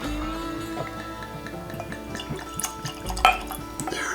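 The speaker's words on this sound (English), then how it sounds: "Let's get us a nice pour." High West Campfire whiskey pours from a bottle into a glass, a soft liquid trickle with small drips and a light glassy clink, close and fairly quiet, with no one speaking.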